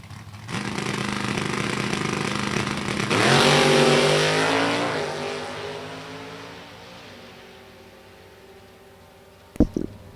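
At a drag strip, a 2008 Cobalt and a 1995 Oldsmobile Achieva with a 403 cubic inch Olds engine launch with a loud, rising roar that peaks and fades as the cars pull away, then a sharp bang near the end.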